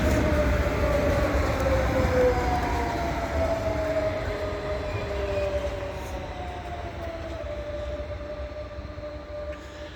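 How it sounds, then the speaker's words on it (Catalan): Trains at Ripoll railway station, one bound for Ribes and one for Barcelona, give a loud rolling rumble with long gliding tonal squeals from wheels or motors that slowly fade and fall in pitch as they move off. "El de la via 1 que ens puja cap a Ribes i el de la via 3 que ens va cap a Barcelona."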